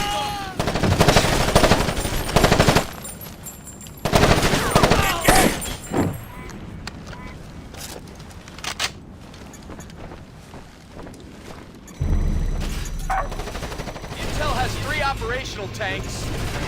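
Hostile gunfire in the tactical shooter Ghost Recon Advanced Warfighter: heavy, continuous automatic fire and impacts in loud waves over wind-like rumble, with soldiers shouting throughout.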